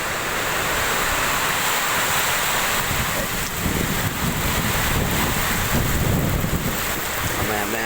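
Strong typhoon wind and heavy rain roar together in a constant, loud wash of noise, with gusts buffeting the microphone and rumbling low bursts, and no voices are heard.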